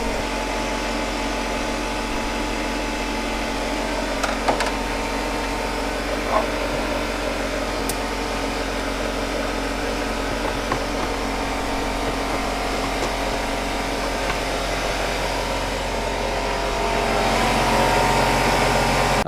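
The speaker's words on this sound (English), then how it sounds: "I hope you guys can hear me over the air compressor." A steady, loud air compressor drones through a garage during a BMW E46 power steering pump replacement, its noise rising slightly near the end with no voices over it.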